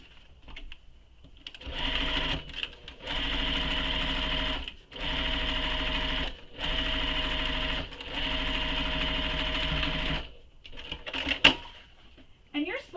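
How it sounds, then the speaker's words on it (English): A sewing machine bastes a top seam in several sustained runs of rapid stitching, each lasting a second or two with short pauses between, loud and close, followed by a few light clicks at the end. "we're going to baste that top seam together"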